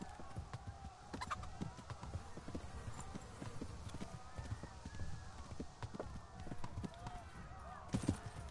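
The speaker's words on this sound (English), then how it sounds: "How do I get on the horse?" Horse hooves clip-clop in a steady run in the video game Kingdom Come: Deliverance II, with game sounds and voices mixed in around the hoofbeats.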